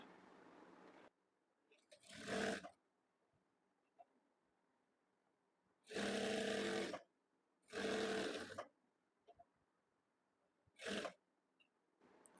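A sewing machine runs in four short bursts stitching the side seams of a designer kurti, a steady rapid whirring rattle with quiet pauses between each run, close and clear with no talking.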